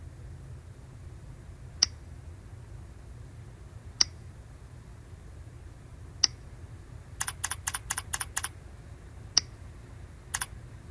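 A computer keyboard is tapped to enter trip mileage into an expense form: a few isolated, crisp keystrokes spaced seconds apart, then a quick run of typing, all faint and close over a low hum.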